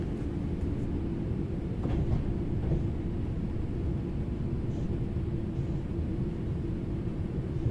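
A train on the Glossop Line in Train Sim World 3 rumbles steadily toward Hattersley, with a constant low, heavy running drone and faint rail noise underneath, no voices.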